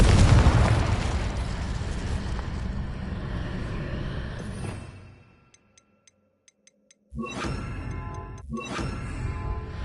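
Confringo spell blast in the Hogwarts Legacy video game on PS4: a loud, sustained explosive roar that fades into near silence with faint ticks, then two more sharp bursts return.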